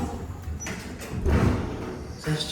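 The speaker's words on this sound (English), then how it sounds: "The door's not closed all the way" The sliding door of a Mowrey hydraulic elevator at an Orlando shopping centre moves with a rumbling slide, then thuds as it settles. A second bump follows near the end over a quiet background hum.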